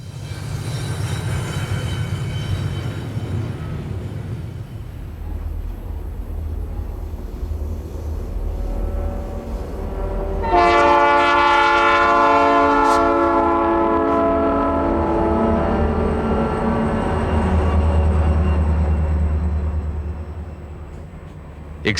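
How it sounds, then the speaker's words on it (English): Santa Fe intermodal freight trains grind around the Tehachapi Loop with a low, steady engine rumble and wheel noise, then a loud multi-tone horn blasts for several seconds midway and fades back into rolling rumble. "intermodal trains working their way around the famous Tehachapi Loop"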